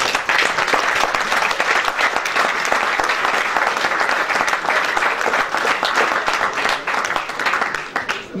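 An event audience applauds Renaud Groux of NordicTrack, sustained dense clapping from a crowd indoors, loud and even throughout before tapering slightly at the end.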